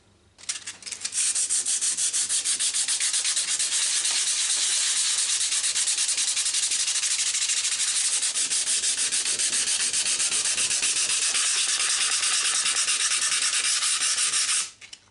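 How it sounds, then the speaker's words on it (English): A loud, steady, close sanding of dried wood filler on wood, one continuous rapid rubbing rasp lasting about thirteen seconds before stopping abruptly. "Now let's wait about 10 minutes and then we can sand it down."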